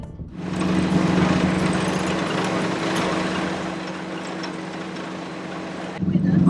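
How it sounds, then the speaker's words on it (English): A 1940s half-track vehicle rattles along a road with a constant, droning engine and rumble heard from on board, steady throughout. "As we're rattling along here in the 1940s half track"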